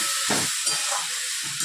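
Vegetables with salt, turmeric and cumin powder frying in a pan with a loud, steady hiss, broken by a few low, short stirring knocks.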